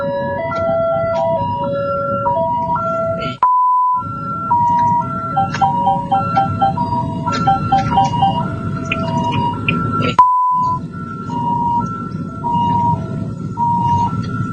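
A hired rescue vehicle's siren in Thailand over New Year cycles loudly through a stepped, warbling tone pattern, broken twice by a sharp horn blast, close and continuous.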